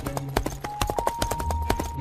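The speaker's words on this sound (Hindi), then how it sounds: "अगले दिन महाराज घोड़े पर मलकापुर जाते हैं।" Horse hooves clip-clop at a brisk, steady rhythm as a king rides toward a village, close and clear with a faint tonal background hum beneath.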